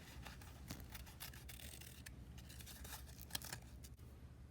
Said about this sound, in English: I make a snip with my scissors, then poke my scissors inside of those and cut out the inside frame part